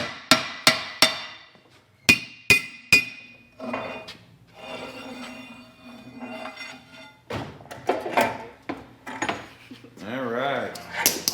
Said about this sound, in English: Take it, and then the screwdriver and a hammer,